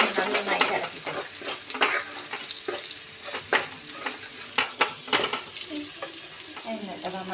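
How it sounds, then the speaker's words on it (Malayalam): Cauliflower stirred into a tomato-sauce gravy in a hot pan, repeated scraping strokes and sharp utensil knocks over a continuous sizzle, fairly close and with no talk. "എന്നിട്ട് നമ്മൾ കോളിഫ്ലവർ, മെയിനായിട്ടുള്ള കോളിഫ്ലവറിനെ നന്നായിട്ട് ഇളക്കി കൊടുക്കും"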